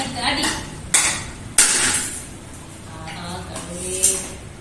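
A piggy bank holding four years of savings is smashed open with several hard blows, heard as three or four sharp cracks and clinks, while people talk excitedly around it.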